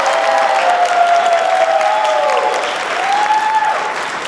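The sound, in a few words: audience applause at conference closing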